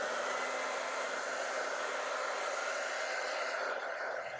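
A hair dryer blows a steady, close airy whoosh across fresh acrylic paint, holding an even roar for several seconds and easing slightly at the end.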